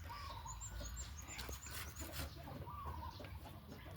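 Chickens on a farm in the morning, including breeding roosters, hens and young chicks, give scattered clucks and calls at a moderate distance over a steady outdoor background hum.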